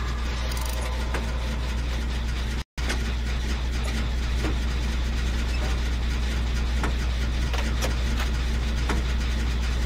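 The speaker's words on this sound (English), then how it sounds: "We're going to work on the generator because he won't come after us." A steady mechanical rattling hum of a generator being repaired in Dead by Daylight continues throughout, loud and unbroken apart from a brief dropout near the start.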